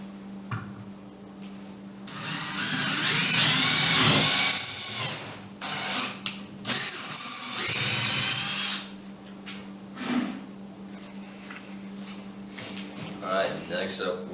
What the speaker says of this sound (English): next we're going to drill a little hole to put the little stick